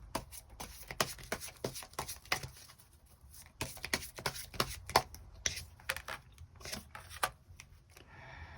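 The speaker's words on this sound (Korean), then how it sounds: "조언의 카드 몇 장 더 뽑아보도록 하겠습니다" Tarot cards being shuffled and drawn, a dense run of crisp riffling slaps and flicks at close range with no talking, pausing briefly before a softer rustle at the end.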